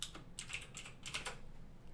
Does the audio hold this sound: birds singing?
no